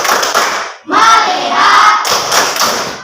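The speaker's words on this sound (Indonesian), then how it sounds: "Tepuk fokus." A class performs the "tepuk fokus" clapping chant, with sharp rhythmic group claps in bursts and children's voices chanting in between, loud and close.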